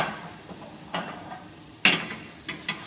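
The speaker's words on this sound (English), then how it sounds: "Just stir it quite vigorously, and you'll see it start to bind and start to take" A whisk or spoon stirring milk into a roux for a bechamel sauce in a pan, soft scraping strokes with a few sharper knocks against the pan, close and fairly quiet.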